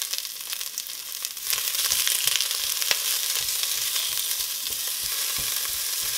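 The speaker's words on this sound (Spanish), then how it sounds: "Agregué poquito aceite más y vamos a revolver la cebolla." Onion frying in oil crackles with a dense, continuous sizzle, loud and close, while a utensil stirs and scrapes through it in an even rhythm.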